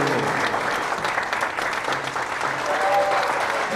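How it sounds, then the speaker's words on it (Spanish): An audience gives a woman presented on stage loud, sustained applause, a thick continuous roar of many hands clapping with faint crowd murmur beneath. "Dale un fuerte aplauso."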